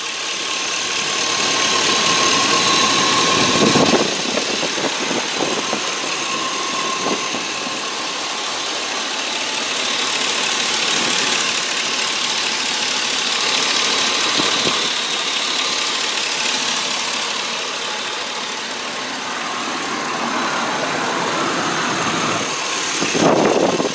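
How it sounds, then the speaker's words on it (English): A green 2003 Chevy Tahoe LT 4x4 engine idles steadily and fairly loud, a smooth, even hum with a broad hiss on top and a few faint knocks, holding constant with no voices. "let you listen to the motor"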